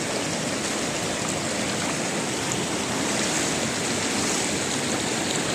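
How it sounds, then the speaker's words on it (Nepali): Loud, unbroken roar of a swollen village river, fast-flowing, dense and churning, close by and steady throughout with no voices. "हाम्रो गाउँतिरको खोला चाहिँ यसरी बढिराखेको छ"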